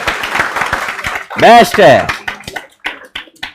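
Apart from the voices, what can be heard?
class clapping hands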